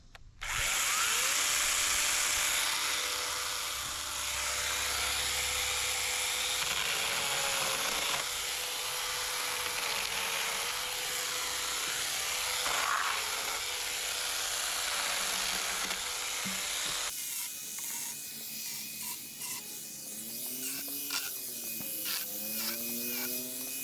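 A Stihl 500i chainsaw runs at a steady high whine while marking firewood logs at a woodyard, loud and continuous before shifting to a lower, rougher, wavering engine tone near the end.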